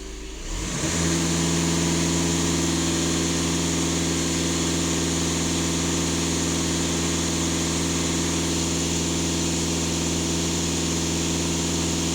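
A VW Golf 7 2.0 TDI diesel engine jumps from idle to a held higher throttle, then drones as a loud, steady hum for the rest of the stretch, heard close by.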